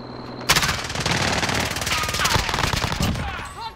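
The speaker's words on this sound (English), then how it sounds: "They're shooting us from the back." A long burst of rapid automatic gunfire erupts in Call of Duty: Modern Warfare multiplayer, loud and continuous for about three seconds after a brief quiet start.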